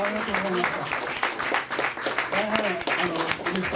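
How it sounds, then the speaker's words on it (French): An audience at a talk with a manga artist applauds in steady, dense clapping for several seconds, with voices audible underneath. "je pense qu'on peut l'applaudir pour son œuvre et son temps"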